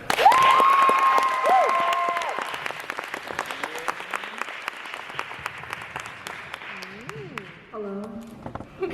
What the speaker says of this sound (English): Please give a round of applause for Saren